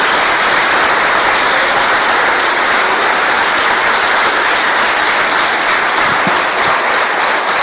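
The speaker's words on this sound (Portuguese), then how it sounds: "Dê uma salva de palmas para Jesus." Dense audience applause fills a church service, a loud, steady wash of many hands clapping that holds without a break from start to finish.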